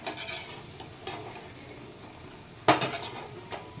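A spatula stirs and lifts fried water spinach from a pan, with sharp scrapes and clinks, the loudest one near the end, over a faint background sizzle and no talking.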